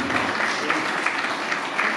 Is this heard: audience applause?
yes